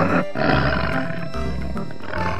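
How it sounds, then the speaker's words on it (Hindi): A giant tiger in an animated Hindi children's story lets out a loud, sustained roar, with a brief break before a second deep, rumbling roar carries on to the end. "तभी कुछ देर बाद वहां से विशाल बाघ आ जाता है"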